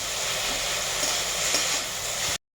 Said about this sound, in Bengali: নেড়ে ছেড়ে ভেজে নিতে হচ্ছে দেখুন